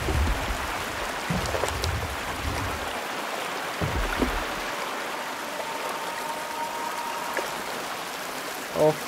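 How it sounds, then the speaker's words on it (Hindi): Fast river water rushes in the video game Outlast 2, a continuous broadband flowing wash with a few low thumps and splashes in the first half and a steadier hiss later on. "पानी यहाँ पे तेज हो रहा है."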